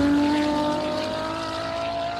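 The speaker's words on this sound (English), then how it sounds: "You can also hear Franco feathering the throttle all the time." A classic race car at the Simola hillclimb runs with its throttle constantly feathered, the engine's harmonic drone holding steady and loud with slight wavering, with no voices over it.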